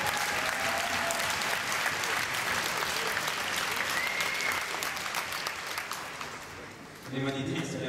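An audience at a gymnastics memorial ceremony applauds in a dense, steady wash of clapping that fades slightly near the end before a voice briefly comes through.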